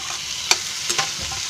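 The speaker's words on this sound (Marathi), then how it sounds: "आता याच्यामध्ये आहे ना हे टोमॅटो टाकते." Tomatoes go into a hot pan of baby fenugreek bhaji, producing a loud, steady sizzle with a few sharp scrapes and clatters of stirring.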